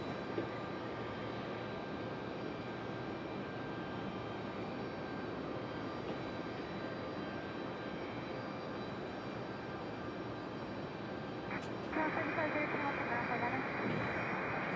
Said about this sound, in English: That's the ATR for sure.